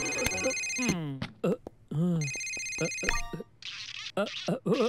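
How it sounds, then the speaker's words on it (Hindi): A ringtone chimes in a library in bright, repeated tonal bursts while a person talks over it. "इस फोन को बंद करो।"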